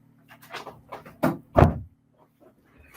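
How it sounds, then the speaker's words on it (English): A door is swung shut nearby with a few soft movements and then two solid thuds close together in a quiet room. "Let's just shut this door a second."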